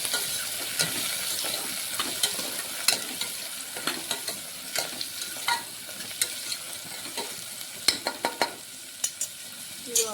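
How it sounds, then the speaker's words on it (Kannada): Onion and tomato fry in a pan for pulao, a low continuous sizzle broken by repeated sharp scrapes and taps of a spoon stirring against the pan. "ಇದು ಇವಾಗ ಚೆನ್ನಾಗಿ ಫ್ರೈ ಆಗಬೇಕು ರೀ"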